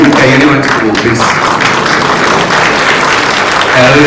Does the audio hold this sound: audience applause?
yes